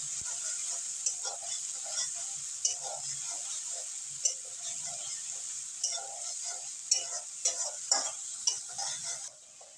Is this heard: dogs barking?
no